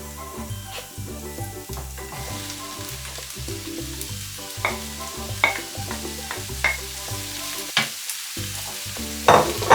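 Sliced courgettes sautéing in olive oil in a pan for a courgette tortilla, a steady sizzle running under repeated tonal music, with a few sharper clinks and stirring scrapes.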